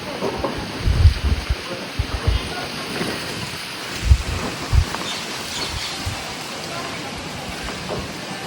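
Heavy rain lashing down in a storm with strong gusting wind, low thunder rumbles and buffeting thumps rising over a constant loud hiss of falling water.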